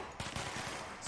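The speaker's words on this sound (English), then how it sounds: "Stop shooting me." Rapid automatic gunfire from the video game Control, a burst of dense, punchy shots fired in quick succession, loud and close, followed by a brief whooshing effect at the end.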